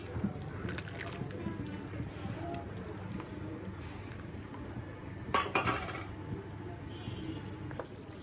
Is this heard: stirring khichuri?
yes